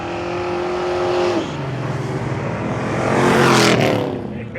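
A Dodge Dart launches at the Orange Dragstrip, its engine a loud, sustained roar that drops in pitch at a gear change and then climbs again as the car pulls away, with no talk over it.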